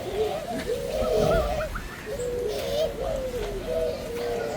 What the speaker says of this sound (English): It's a white-headed, blue-breasted pigeon.